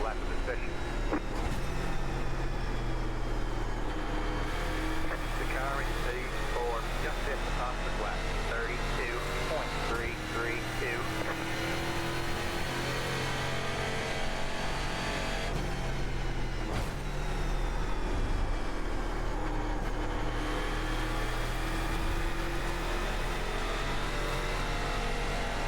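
A race car engine in the iRacing sim, a NASCAR Eurocar at the Milwaukee Mile, drones loudly and continuously under engine braking, its pitch shifting as the car slows and rotates through a corner, with steady mechanical roar throughout.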